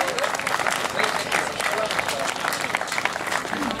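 A crowd at an anti-nuclear protest outside the Tihange nuclear plant claps in a sustained, moderately distant round of applause, with some voices mixed in.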